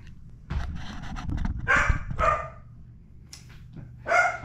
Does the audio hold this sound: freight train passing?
no